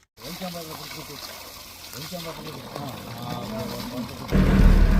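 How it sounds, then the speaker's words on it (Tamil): Water gushes from a 1-inch delivery pipe of a borewell about 350 feet deep, a steady splashing flow at medium pressure that swells louder toward the end, with someone talking over it. "இது பார்த்தீங்கன்னா 1 இன்ச் டெலிவரி ஓடிட்டுருக்கு. ப்ரெஷர் சூப்பராக இருக்குது."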